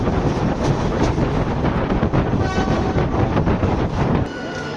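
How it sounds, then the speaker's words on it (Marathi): Sawantwadi-Diva Express arriving at Diva station, a loud continuous rumble of rolling carriages with wind buffeting the microphone, easing off near the end. "माझ्या मित्रांनो दिवा स्टेशनला ट्रेन पोहोचली आहे"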